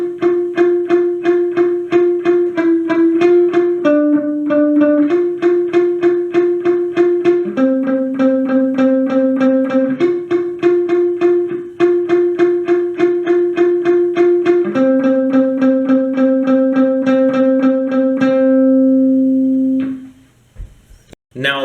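Electric guitar plays the verse riff of a song, a steady run of picked repeated notes shifting between a few pitches, loud and close, alone, ending with a brief scrape.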